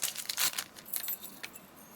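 Keys jangle and click in quick bursts against a Elemake WiFi fingerprint smart door lock, a few sharp metallic rattles up close, then quieter scattered clinks.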